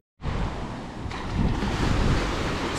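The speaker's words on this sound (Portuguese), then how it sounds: "O problema é que tá ventando." Strong, steady wind roars at Tourinhos beach in São Miguel do Gostoso, Brazil, blending with rushing surf that swells louder partway through, with no voices.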